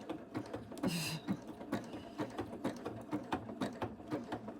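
A sewing machine stitches through a fabric strip rug with a rapid, rhythmic mechanical clatter, close and moderately quiet, holding a steady stitching pace.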